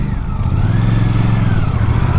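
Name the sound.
Royal Enfield Interceptor Bear 650 motorcycle engine running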